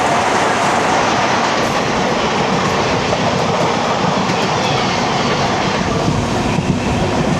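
The Palaruvi Express (16312) crosses the bridge over the Manalipuzha river, a loud close rolling rumble with wheel clatter that runs continuously without voices.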